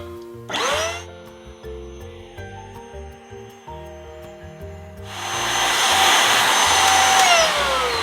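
A Hikins portable spot carpet cleaner starts with a brief whoosh, then falls to a low hum with small clicks before its motor surges into a loud, steady roaring suction for the last few seconds.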